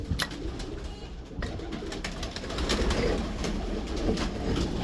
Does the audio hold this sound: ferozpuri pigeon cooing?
yes